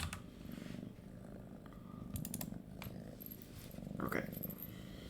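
A cat purring close by in a low, steady rumble that runs throughout, with a person speaking faintly over it and a few soft clicks.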